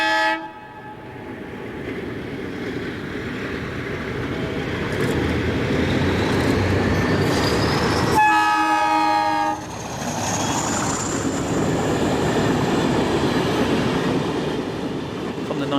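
Portuguese diesel locomotive 1808 hauling a passenger train along Setúbal docks, a steady rumbling engine drone and rolling wheels, with a loud two-tone horn blast midway, close and prominent.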